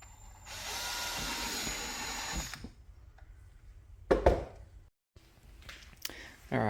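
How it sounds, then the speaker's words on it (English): A power drill whirs steadily for a couple of seconds, boring holes in a battery case, then stops; a few clicks and handling knocks follow in a quiet room. "you'll just see me drilling these holes"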